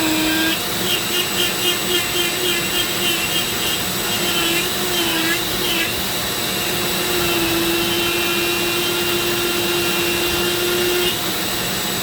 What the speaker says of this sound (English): This feels pretty good under the Dremel.